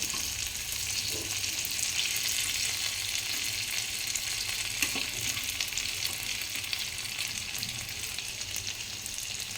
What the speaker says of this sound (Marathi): शॅलो फ्राय करायचे आहेत गोल्डन ब्राऊन कलर होईपर्यंत आपण हे फ्राय फ्राय करणार आहोत